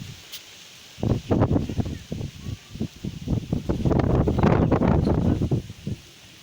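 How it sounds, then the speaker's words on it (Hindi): Gusty wind blows across a house rooftop, buffeting the microphone in irregular, rumbling bursts that rise and fall over a few seconds, with no talking. "हवा चल रही है।"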